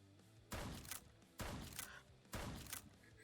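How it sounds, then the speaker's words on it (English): Three loud shotgun blasts ring out at even intervals in the VR shooting game Rival Rides, each a sharp boom with a short decaying tail. "The shotgun."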